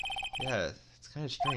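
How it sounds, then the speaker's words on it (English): A retro electronic phone ring from the Phoenix Wright: Ace Attorney video game, a rapid series of short bright trills at the start, then voices talking over game sounds. "I heard a phone ring just now."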